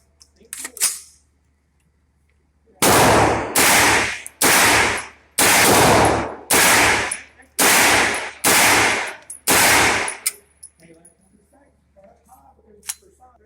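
An AR-9 16-inch carbine fires about eight loud, close shots in a rapid evenly spaced series, each a sharp blast with a short decaying tail, after an earlier lone shot, with faint voices at the end.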